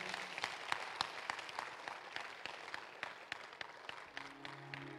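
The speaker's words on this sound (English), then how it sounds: "Clap your hands unto the Lord." A church congregation claps hands during a worship service, dense steady applause from many people at close to mid distance, with no speech over it.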